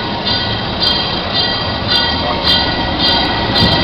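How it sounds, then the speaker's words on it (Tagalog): A tourist train rolls past in Skagway, a loud, steady rumble of wheels and cars with faint squeals and clacks from the rails, continuing throughout with no talk. "Wow, choo-choo train."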